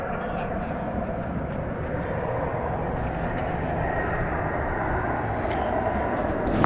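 An American Airlines Boeing 737 MAX 8 approaches DFW Airport, its jet engines making a steady broad roar that builds slightly as it comes nearer, with no voices.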